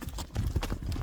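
Hooves of a large horse clip-clop in a brief, steady run of close, dull thuds lasting about a second, with no talk over them.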